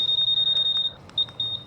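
A Honda Click V4 scooter's alarm sounds a high, piercing electronic tone in quick repeated bursts, steady at first and then breaking into short separate chirps, close and clear with no talk.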